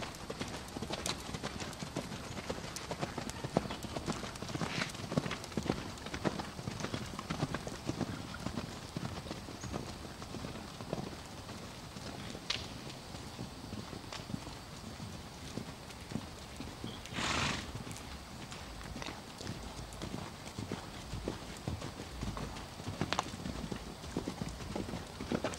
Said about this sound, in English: You can keep cantering, May.